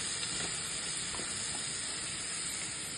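Ivy gourd (tondli) being stir-fried with ginger and garlic in a pan, a steady, even sizzle of frying with faint stirring scrapes, close and continuous without talk.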